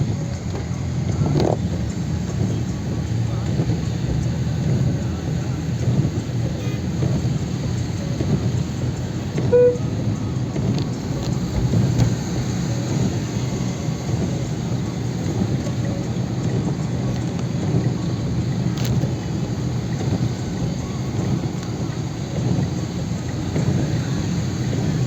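Steady, dense rainfall pours during a Delhi thunderstorm, a continuous hiss over a low rumble with faint traffic passing beneath, and no voices throughout.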